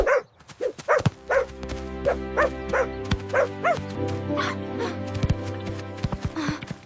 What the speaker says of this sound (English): the boys played happily with our energetic dog, Lucky.